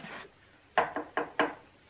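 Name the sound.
knocking on a door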